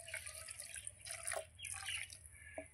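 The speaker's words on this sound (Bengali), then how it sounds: "ঠান্ডা জল ঢেলে ছানাটাকে ভালো করে ধুয়ে নেব," Cold water poured over fresh chhena to rinse it, a steady close splashing and trickling stream with brief drip-like accents, no voices.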